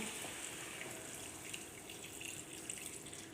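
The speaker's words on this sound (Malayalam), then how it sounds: "എല്ലാം ഒന്ന് മിക്സ് ചെയ്തിട്ട് നമുക്ക് അല്പം വെള്ളം ഒഴിച്ച് കൊടുക്കാം" Water is poured into a pan of dried prawn theeyal, giving a soft, steady trickling hiss throughout with no talk.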